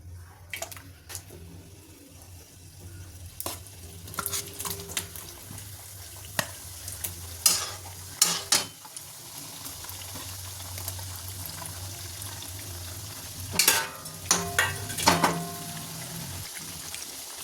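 Wheat-flour jaggery shankarpali bubble in hot oil, a steady frothy hiss broken by sharp bursts of crackle as more pieces drop in, close and without voices.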